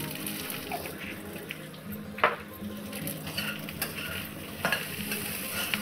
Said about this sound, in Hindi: इसे भी थोड़ा अच्छे से सॉटे कर लेंगे, थोड़ा इधर उधर करके थोड़ा भून लेंगे।